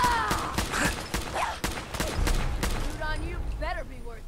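Gunfire in the video game Fallout 4 comes as several sharp shots in quick bursts, followed by mechanical rattles, with someone talking over it.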